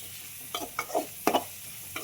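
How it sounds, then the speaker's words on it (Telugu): Onions and green chillies frying in a pan, a quiet steady sizzle broken by a few short scrapes of a spoon stirring, with no talking. "ఆనియన్స్ పచ్చిమిర్చి అయితే వేసేసుకుందాం. బాగా వేయించుకుందామండి"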